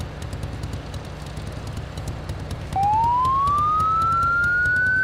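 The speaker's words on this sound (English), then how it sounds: "The siren's loud." A police siren starts abruptly and rises in a steady, loud wail over a low rumbling engine drone.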